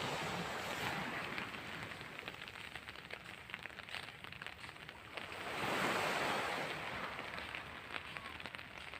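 Steady wash of ocean surf rolling onto Repulse Bay Beach in Hong Kong on a rainy day, a continuous broadband roar that swells louder midway as a bigger wave breaks, no voices.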